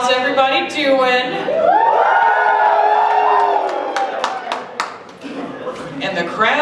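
An indoor crowd at a furry convention event claps and cheers loudly, with whoops and sharp individual claps rising and tapering over several seconds, and voices shouting through it.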